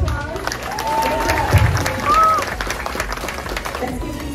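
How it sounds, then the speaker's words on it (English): A school audience claps for seventh grade students during morning announcements, sustained applause with a faint tonal whistle or squeak and some crowd murmur mixed in. "Let's give these seventh graders a round of applause,"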